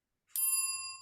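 A single bright bell ding rings out alone, a clean struck chime with a sharp attack and a long sustained ring that slowly fades.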